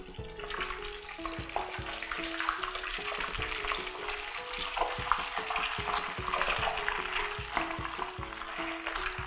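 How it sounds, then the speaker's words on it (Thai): Pounded catfish fries in hot oil over medium-high heat, a dense, continuous bubbling crackle with a busy, frothy texture, close up and steady throughout. "เราจะมาเริ่มทอดตัวปลาดุกฟูกันค่ะ ตั้งน้ำมันให้ร้อนนะคะ"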